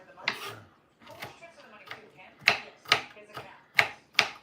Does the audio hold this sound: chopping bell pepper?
yes